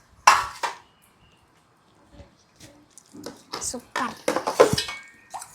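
Plates and dishes handled during a home breakfast of hot idlis and chutney, with a couple of sharp clinks at the start, then scattered soft clatter mixed with nearby talking.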